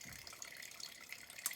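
Water pours steadily out of a container in an at-home atmospheric pressure demonstration, giving a faint, continuous splashing trickle with a brief brighter splash near the end and no talking.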